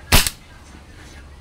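An air rifle fires a Silver Streak pellet at a 25-yard target: one sharp, loud crack followed by a quick second snap, then quiet.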